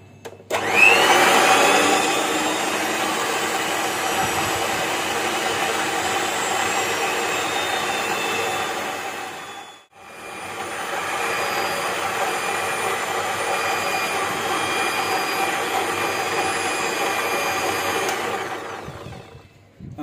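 Stand mixer kneading basic martabak dough at low speed 1 to 2, a steady whirring motor drone with a brief dip midway, then running on evenly before winding down at the end.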